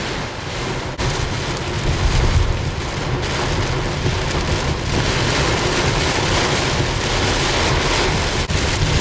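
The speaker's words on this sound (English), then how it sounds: "we got crazy wind, we got lightning, we got heavy rain" Heavy rain pours down steadily during a storm with strong wind, a dense, loud roar with low rumbling thunder underneath, close and constant throughout.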